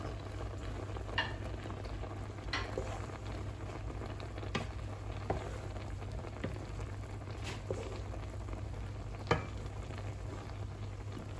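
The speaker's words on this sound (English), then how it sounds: "And then we're gonna mix the mushrooms in." Mushrooms are stirred into olive rice with chicken frying in a pan, giving a soft steady sizzle with occasional scraping and tapping of the spoon, fairly quiet and close.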